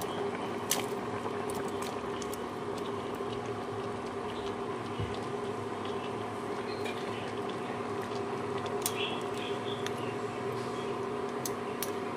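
Gravy for a Bengali-style aloo paneer dalna bubbles in a pot, a soft continuous simmer with scattered pops and small liquid blips, close by and moderately quiet, with no one speaking.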